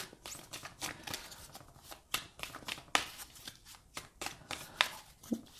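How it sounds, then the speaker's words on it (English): Rapid papery riffling of a deck of cards being shuffled, in repeated bursts of sharp flicks close up, with no voices. "Okay, so I'll do some shuffling."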